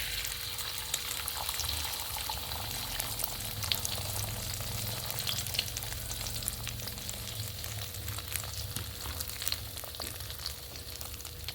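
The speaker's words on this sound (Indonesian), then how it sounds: "ini aku mau dadar telur gitu kan, jadi ini udah aku kasih bumbu. Lanjut kita mau goreng dulu sebentar." A seasoned egg omelette fries in a pan, giving a steady, dense sizzle with small crackles and pops throughout, close and continuous at a moderate level with no talking.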